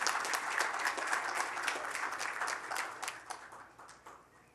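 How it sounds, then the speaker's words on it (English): An audience at a Colorado midterm election-night event applauds: a dense, steady round of clapping that fades out over several seconds. "let's go ahead and give her a big round of applause"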